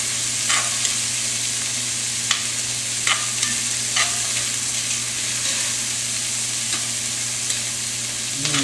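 Vegetables sautéing in a pan for braised lamb shanks, an even, close sizzle with a low steady hum beneath and scattered light clicks of a spoon stirring, no speech.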